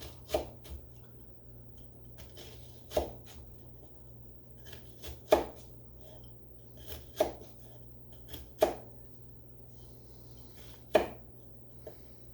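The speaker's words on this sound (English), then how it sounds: "is I make slices like this" A knife slices through vegetables on a cutting board for turkey soup, giving about eight crisp, close chopping strokes spaced a second or two apart over a quiet hum.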